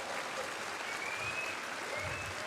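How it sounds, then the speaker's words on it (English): A seated audience applauds panelists on stage at TennoCon 2024, steady dense clapping throughout with faint scattered whoops from the crowd. "Can we hear another round of applause for our incredible panelists on stage here?"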